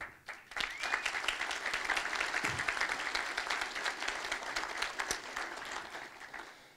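A city State of the City audience applauds steadily, a dense wash of clapping that holds for several seconds before starting to thin out.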